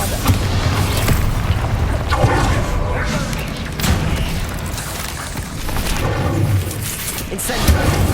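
Repeated Bombarda blasting-spell explosions in Hogwarts Legacy pound through a busy battle, dense booms and bursts stacked with spell effects and shouted voices.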